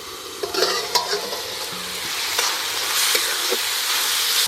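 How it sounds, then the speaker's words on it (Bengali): Greens (shak) frying in a pan as they are stirred, a steady close sizzle broken by repeated scraping and clinking utensil strokes against the pan, no talking. "শাক ভাজা হয়ে গেছে"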